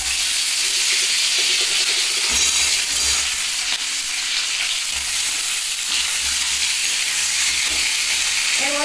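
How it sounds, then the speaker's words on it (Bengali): An egg and potatoes fry in oil in a home kitchen, a loud, continuous sizzle with occasional stirring scrapes and no talking. "ডিমটাকে হালকা এই তেলের মধ্যে ভেজে নিচ্ছি। এবার আলুটাও দিয়ে দিচ্ছি।"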